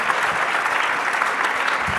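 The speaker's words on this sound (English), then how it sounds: "A huge round of applause for our panelists." Continuous dense applause from a conference audience for the panelists at the close of an academic session on open access, even and loud throughout with no voices.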